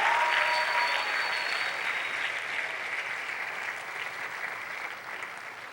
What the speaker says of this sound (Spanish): Dale un aplauso al Rey Jesús